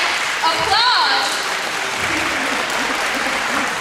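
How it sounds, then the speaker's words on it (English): Students at a school teen summit applaud a speaker in a hall, a broad wash of clapping and crowd noise that persists throughout while a voice speaks over the start. "Let's give her a round of applause."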